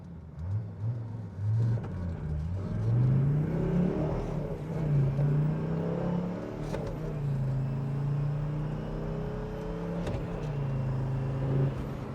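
Mercedes diesel sedan with a manual gearbox accelerating hard from a standstill toward 60 mph, engine note climbing and dropping through several gear changes, a steady moderate rumble heard from inside the car.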